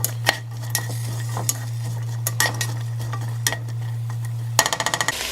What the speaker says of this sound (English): then I'm adding in the veggies and adding some minced garlic in.